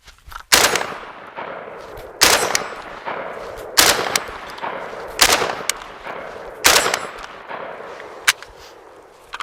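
A handgun fires in a shooting drill, six sharp, loud reports spaced about one and a half seconds apart, each with a short echoing tail, heard close with no talking.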